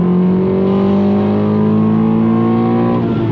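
A 9th generation Honda Accord engine revving hard beyond its 6800 rpm redline, a loud sustained rising engine tone heard up close with no talk.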